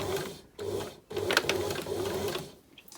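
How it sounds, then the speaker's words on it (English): A sewing machine runs in short stitching bursts back and forth at the top of a dart in fabric, a close, steady mechanical whir broken by brief pauses, with no speech. "Take a few stitches back and forth at the top."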